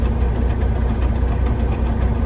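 A 2004 International 9400i truck with very high mileage idles close by, its engine giving a continuous low, rumbling drone with a steady knocking pulse and no voices.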